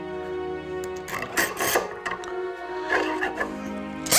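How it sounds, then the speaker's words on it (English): A drill boring countersunk holes into a wooden cutting board, sounding as short grinding bursts with clattery spikes near at hand, and quiet gaps between them. "Right now I'm drilling holes."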